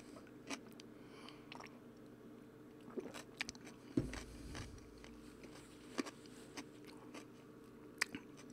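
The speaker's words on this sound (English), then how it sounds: "I'm eating a carrot" A raw carrot is bitten and chewed close to the mic, with sharp, scattered crunches over several seconds against a quiet, low background hum.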